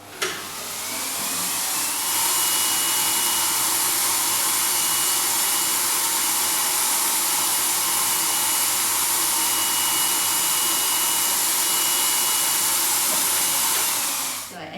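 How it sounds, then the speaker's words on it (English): A vacuum cleaner runs steadily throughout, a loud constant whooshing hiss and hum that starts up and cuts off near the end. "I think I will turn the vacuum on"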